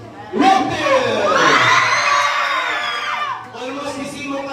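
Students of the Red Team at a school learning camp recognition day erupt in loud crowd cheering and shouting, a sustained roar of young voices that swells, fades briefly, then picks up again.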